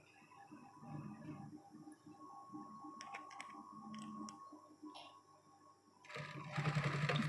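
A sewing machine runs in quick, even stitching bursts while sewing a collar onto a dress, close and fairly quiet, with small clicks and handling sounds and a louder run of stitching at the end.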